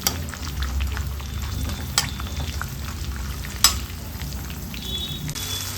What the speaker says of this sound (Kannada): ಈ ರೀತಿಯಲ್ಲಿ ಒಂದು 5 ನಿಮಿಷ ಫ್ರೈ ಆದರೆ ಸಾಕು.